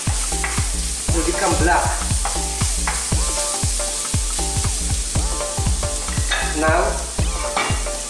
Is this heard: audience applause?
no